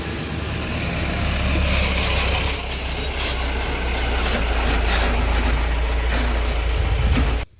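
A goods vehicle pulls up carrying a delivery of pipes for a railing in a hill village, its steady engine rumble close and loud throughout before cutting off abruptly at the end.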